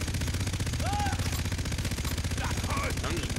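Rapid automatic fire from a gun in Far Cry 3 co-op rattles continuously in a dense, loud, even rhythm throughout, with voices talking over it.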